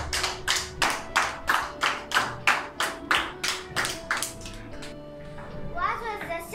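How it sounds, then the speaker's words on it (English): At a virtual preparatory and grade 8 graduation ceremony, a small group claps in a steady, evenly paced rhythm of distinct close claps that slows and trails off, followed by children's voices. "Well done! Give her a warm clap."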